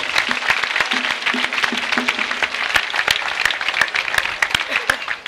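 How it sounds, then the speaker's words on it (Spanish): A crowd at a Turcia town festival proclamation applauds for Luciano. The clapping is steady and fairly close, with crisp individual claps throughout and a voice faintly underneath. "Un otro aplauso para Luciano."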